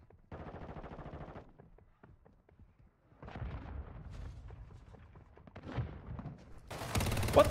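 Gunfire and a mortar strike in Warzone Mobile: rattling bursts of automatic fire and scattered shots at moderate distance, ending in a loud, broad blast.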